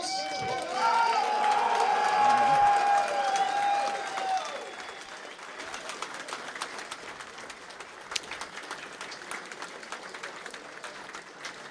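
A crowd applauds and cheers the winning team at a 6v6 Team Fortress 2 LAN grand final, loud with whoops at first, then thinning to lighter scattered clapping as it winds down.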